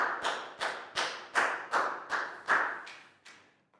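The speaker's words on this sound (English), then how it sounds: "High five and a big round of applause for Nadia, please, guys." A classroom of young pupils gives a round of applause, heard as a slow run of about nine distinct, evenly spaced claps, close and moderately loud with no talking.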